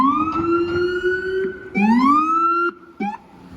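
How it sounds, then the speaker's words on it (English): An emergency vehicle siren wails in rising, sweeping tones on a Manhattan street near Canal Street, New York City, cutting off and restarting a few times, loud and fairly close. "so he got his siren on"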